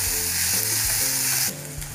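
Green chilli and onion sauté in a hot pan for bread upma, a loud, continuous sizzle with a steady hiss throughout and no voices.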